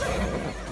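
A horse in Immortals Fenyx Rising gives a short, close whinny lasting well under a second.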